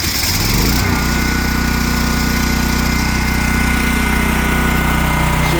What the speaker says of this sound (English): Now we got the Champion dual fuel running